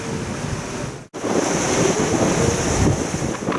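Strong wind roars across the microphone on a sailboat under reefed sails on the Mediterranean, with waves rushing and surging steadily and one brief dropout.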